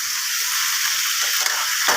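Steady close sizzle of banana flower frying in a pan with meat masala stirred through, a continuous hiss with soft scraping and stirring movements underneath, no talk.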